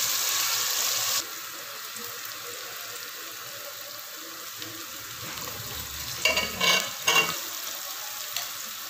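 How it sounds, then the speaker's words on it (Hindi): Sliced onions frying in a pan until light golden: a loud hiss at first that drops to a softer steady sizzle, then a few clattering scrapes as they are stirred near the end. "और प्याजों को फ्राई कर लूँ। ज़्यादा फ्राई नहीं करूँगी, हल्के गोल्डन लाइट कलर के होंगे"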